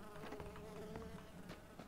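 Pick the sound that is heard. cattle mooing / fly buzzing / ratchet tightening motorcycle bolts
fly buzzing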